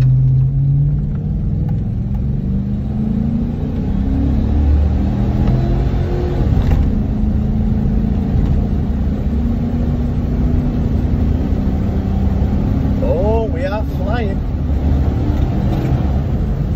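Car engine held at full throttle in a steady, loud, continuous roar that runs the whole stretch with no talking, at a car wash.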